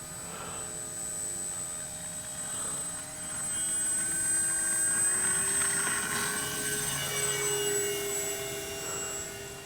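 A Kavan Bristell B-23 RC airplane in flight, its motor giving a steady, moderately loud whine that swells and shifts in pitch as it passes overhead, with no voices.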